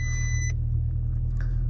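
A Golf MK6 GTI's brake fault warning chime beeps once for about half a second, then stops, leaving the steady low rumble of the idling engine.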